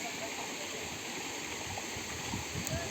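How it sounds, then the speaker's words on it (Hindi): Stream water flows gently over a shallow slope at Gitaghat, Rohtas, a steady close rushing and gurgling with faint indistinct voices underneath. "जहाँ पर ढाल कम है वहाँ पर हल्का हल्का पानी बहता है"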